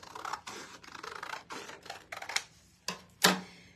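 Scissors snip through paper for a craft word block, with a quick run of crisp cuts followed by a few sharper, separate snips close to the microphone.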